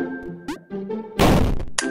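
Explosion in the video game Level Devil, a sudden loud burst of noisy crash amid short electronic game tones and thumps, lasting about half a second before a final blip.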